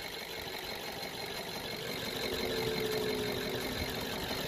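BMW N43/N53 petrol engine idling after piezo injector replacement, a low steady hum with slight shaking vibration, fairly quiet and continuous with no voices.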